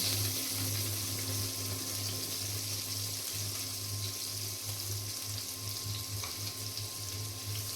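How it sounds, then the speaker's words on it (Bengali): Chopped onion frying in hot oil in a pan makes a steady, dense sizzle that carries on evenly throughout, with a constant low hum beneath it. "এখন এই তেলের মধ্যেই দিয়ে দিলাম পেঁয়াজ কুচি।"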